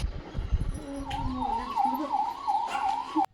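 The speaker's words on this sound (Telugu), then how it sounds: "అంబులెన్స్ అంబులెన్స్ వస్తుంది" An ambulance siren wails, rising and falling steadily, fairly close, over low rumbling traffic noise, ending abruptly.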